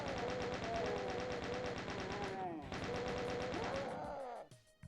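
Chaingunners in Doom II are met with sustained rapid gunfire, a loud unbroken rattle of shots that pauses briefly, resumes, then cuts off abruptly before the end.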